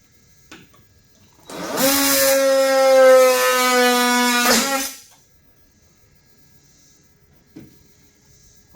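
A power tool cuts through the lid of an IBC tote in one loud, steady whining burst of about three seconds, preceded and followed by near silence.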